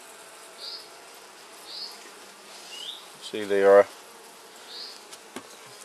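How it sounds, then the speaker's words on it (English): Steady, dense hum of many honeybees buzzing close by in an open hive during inspection in Norfolk, with a brief spoken remark partway through. "Seems to be a lot more bees in here."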